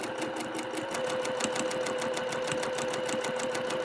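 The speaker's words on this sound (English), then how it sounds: "I'm just going to sew a couple stitches." A sewing machine stitching quilt fabric, its needle running in a steady, fast mechanical rhythm with a constant motor hum, close up and alone, with no talk.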